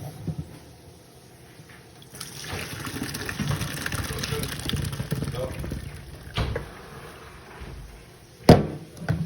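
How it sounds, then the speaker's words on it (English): Water gushes into a kitchen sink as a pot of macaroni noodles is drained, a rushing pour that swells after a quiet start and then tapers, with a sharp clatter near the end. "Okay, we're gonna drain the noodles."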